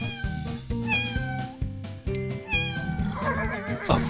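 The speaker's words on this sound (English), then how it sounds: "Cat." A cat meows several times over a looping musical backing, each meow short and clear and sitting close above the steady beat.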